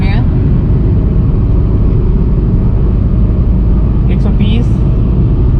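A Volkswagen Polo with black smoke and low pickup trouble drones loudly at 120 km/h in 5th gear, a heavy, steady low rumble of engine and road noise from inside the cabin, with a brief voice near the end.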